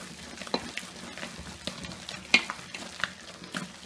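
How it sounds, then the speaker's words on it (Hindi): Urad dal batter being beaten by hand in a deep bowl, giving a run of irregular wet slaps and squelching strokes, close and fairly quiet, with no voices. "हाथ में थोड़ा थोड़ा पानी डालते हुए इस तरह से दाल को फेंटें।"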